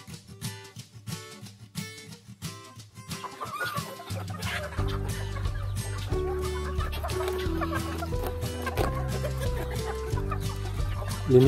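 Rhode Island Red backyard chickens cluck steadily and close by at feeding time on a small farm, their calls layering more densely as a low, steady background rumble rises partway through.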